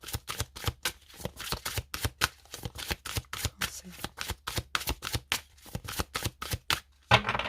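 A deck of tarot cards riffled and cut over and over, a rapid run of crisp papery flicks and snaps in an even rhythm, close and clear, with a brief voice near the end.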